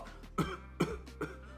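Three short, sharp coughs from one person, spaced evenly about 0.4 seconds apart, close and fairly loud against a quiet background.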